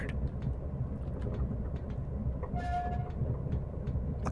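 Train in a video game, steady low rumble of the rail cars rolling along with a brief horn-like tone partway through, moderately quiet with no speech.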